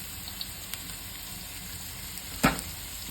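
Bachelor-style tomato thokku frying in a pan, a dense, steady sizzle with faint stirring scrapes and one sharper clink of the spoon near the end.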